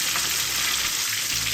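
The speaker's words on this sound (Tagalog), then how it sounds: "Ganda ng ating pagkakaprito." A giant 3-kilo tilapia frying in hot oil, a loud, dense crackling sizzle that continues steadily throughout, very close.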